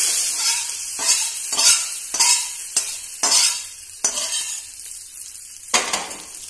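Pineapple pachadi curry, Kerala sadya style, stirred in a pan with a spoon, giving a run of close, rhythmic scraping and wet sloshing strokes with a light sizzle beneath, no voices.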